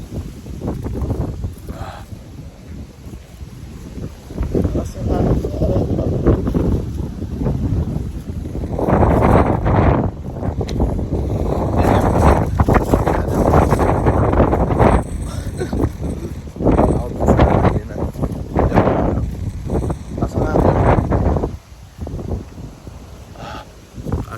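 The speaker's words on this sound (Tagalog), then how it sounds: "Lakas ang hangin." Strong, gusty typhoon wind in Taiwan roars and buffets the microphone steadily, rising and falling in blasts, with occasional rustling.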